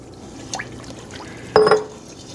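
Apple cider pours into a pot of seasonings for a small-batch apple cranberry pie filling, a short splash of liquid after a few faint drips.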